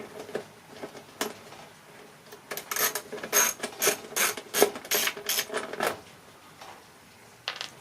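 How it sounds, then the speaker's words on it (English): Socket ratchet clicking as it loosens relay bolts on a glass-fusing kiln during repair, bursts of close, crisp pawl clicks in uneven runs with short pauses between strokes. "put the right size socket on."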